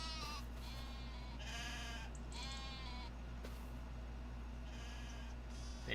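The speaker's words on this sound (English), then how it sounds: "Look at my sheep, though." Sheep in the Farming Simulator 25 video game bleat several times in short, wavering calls over a steady low hum of background noise, with no talking.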